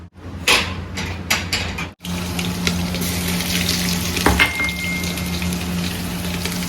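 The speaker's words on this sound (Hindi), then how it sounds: "इसमें डल चुका है कड़ी पत्ता" Curry leaves, cumin, fenugreek, garlic and chili hit hot oil in a deep pot for kadhi. A few clattering knocks come first, then a loud, steady sizzle and crackle runs close up to the end.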